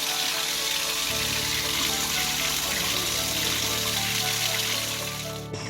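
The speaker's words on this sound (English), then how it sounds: "I could hear the water running in the bathroom" Water runs steadily from a newly installed tap in a provincial home, a continuous broadband rush that stays loud and even throughout with no voices.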